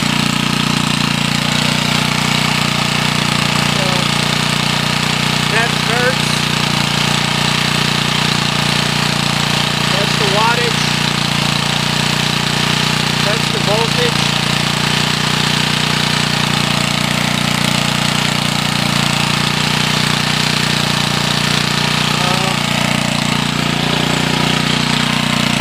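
Old Gillette 1 kW generator running under load during a load and frequency test, a loud steady engine drone with a rough, hammering rattle that holds at a constant level throughout, with no talk.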